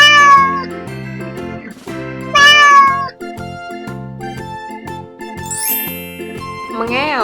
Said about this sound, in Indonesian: Mengeong.